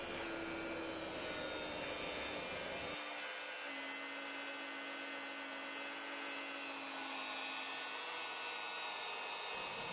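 A thick 6mm grinding wheel skims the teeth of a homemade timing wheel, a loud continuous whine that drops in pitch and strains as the wheel wanders and jams partway through.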